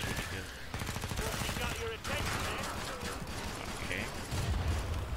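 Rapid bursts of gunfire from a weapon in the Zombie Killing Simulator video game, fired from the hip, crackle densely and steadily through the whole stretch while a voice briefly speaks over it.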